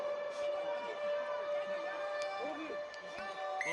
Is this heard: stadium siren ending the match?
yes